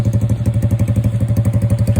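Close, loud idle of a Yuki Gusto 130cc scooter fitted with a loud exhaust: an even, fast low-pitched thudding pulse with light rattly clatter running throughout.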